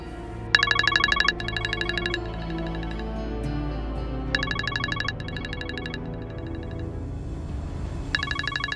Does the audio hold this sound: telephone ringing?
yes